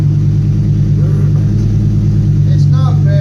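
A 2011-2019 Ford F150 5.0L V8 with a welded Thrush muffler dual exhaust sits at a loud, close, deep idle, a steady low rumble that never lets up, with a faint voice briefly audible over it.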